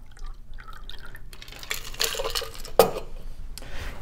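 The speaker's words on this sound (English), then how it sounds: "I'm just gonna use a strainer, and I'm just gonna strain it all out." A mint cocktail is poured through a strainer, giving soft trickles and drips of liquid with a few light clinks of glassware and metal, close by and fairly quiet.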